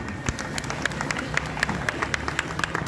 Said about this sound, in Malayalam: പുറകിൽ വലിയ ക്ലാപ്പ് കൊടുക്കണം